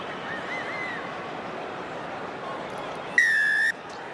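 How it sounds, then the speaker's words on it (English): A referee's whistle gives one shrill, steady blast about half a second long at the kickoff of a New Zealand versus Italy rugby match, cutting sharply through the low, constant roar of the stadium crowd. "Shrill blast of the referee's whistle"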